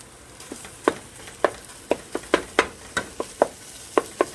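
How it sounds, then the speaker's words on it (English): Ground turkey with a couple scoops of jarred minced garlic browning in a pan, giving a soft sizzle broken by about a dozen sharp scraping clicks of stirring at an uneven rhythm, close and moderately loud with no talking. "I just added some of the minced garlic from the jar, a couple scoops, and then browning my ground turkey"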